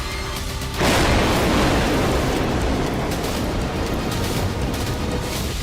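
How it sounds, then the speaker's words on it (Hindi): Rocket attack explosions in war footage: a sudden loud blast near the start gives way to a long, rolling roar and rumble that slowly fades, heard alone without voices. "यहाँ रॉकेट से हमले हो रहे हैं"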